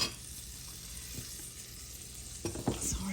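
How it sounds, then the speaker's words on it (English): Butter melting over low heat in a pan where bread will be toasted for a patty melt, a steady soft sizzle with a few clinks and stirring sounds near the end. "I'm going to put just a pat of butter in here for a bread"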